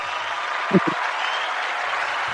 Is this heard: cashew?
no